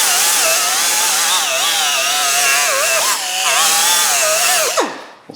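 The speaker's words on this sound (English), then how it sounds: "We'll still polish it." A power tool polishes superficial rust off front brake parts from a Chevy Silverado, a loud, close, high-pitched motor whine that wavers in pitch as the tool loads, then winds down sharply at the end.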